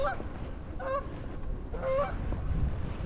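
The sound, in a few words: geese honking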